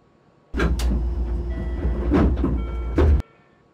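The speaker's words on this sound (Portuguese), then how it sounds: "A campainha alerta para o fechamento imediato das portas." A door-closing warning chime on a fictional CPTM series 6600 train in the OpenBVE simulator sounds as steady electronic tones over low train rumble, running about three seconds before cutting off abruptly.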